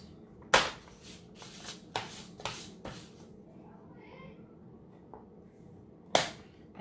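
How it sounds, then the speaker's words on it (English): Several sharp crisp snips of scissors cutting paper, a quick cluster then a pause and one more cut, close up with faint room noise. "You can either cut it with your scissors"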